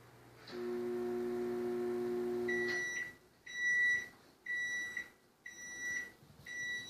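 A microwave oven runs with a steady electric hum for a couple of seconds, then stops and gives a series of sharp, evenly spaced beeps, close by with no one talking.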